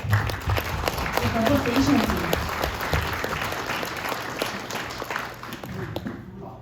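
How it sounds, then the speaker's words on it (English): An audience at an appreciation ceremony honoring a state representative breaks into steady applause, a dense wash of clapping that holds for several seconds before tapering off near the end. "Let's give him one more round of applause."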